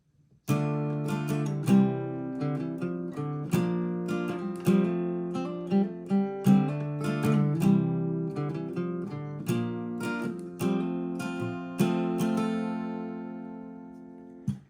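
Acoustic guitar plays a melodic intro alone, strummed chords and picked notes ringing out clearly in a steady rhythm, close and uninterrupted.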